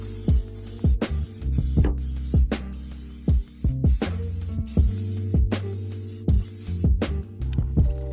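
Repeated short hissing bursts of an aerosol can spraying white radiator enamel on Porsche 924 parts, with rattling clicks and pauses between sprays, fairly close.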